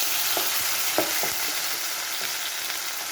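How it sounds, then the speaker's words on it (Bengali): Onion, garlic and green chili paste frying in hot oil for a rohu fish dish, giving a steady broadband sizzle throughout with a few soft stirring knocks, close and fairly loud, no talking. "গরম তেলের মধ্যে দিয়ে দিচ্ছি পেঁয়াজ রসুন এবং কাঁচামরিচ বাটা"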